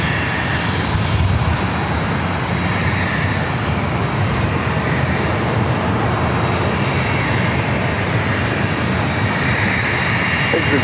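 An Alaska Airlines jet arriving from Portland at San Diego airport gives a steady, loud engine roar that fills the whole stretch without letup, with faint radio chatter mixed in.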